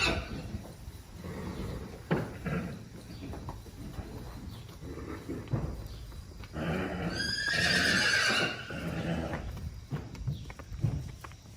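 A Candy Ride colt gives one loud, close whinny while being led out to a paddock on a horse farm, with hoof clip-clops, shuffling and handling noises around it.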